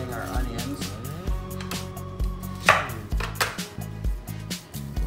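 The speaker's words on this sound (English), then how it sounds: "Now we chop these up nice and thin." A knife chops onions thinly on a board in a steady series of close, crisp cuts, with someone talking over the chopping.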